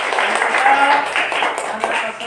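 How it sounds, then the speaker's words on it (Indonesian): A class of children applauds in a classroom, with a dense spread of overlapping hand claps, steady and fairly loud, and chattering voices mixed in under the clapping. "Kita tepuk tangan dulu"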